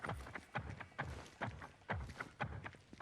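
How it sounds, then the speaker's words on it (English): Running footsteps in the video game Fortnite, a steady, rhythmic clopping of about a dozen thudding steps at a quick pace, fairly close and continuous with no talk. "see where these footsteps are coming from"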